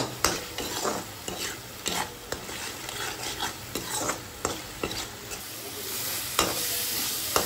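Ground spices with turmeric, Kashmiri chili and salt sizzle in a pan while a spoon stirs with repeated close scrapes and taps on the metal over a steady frying hiss, no voices.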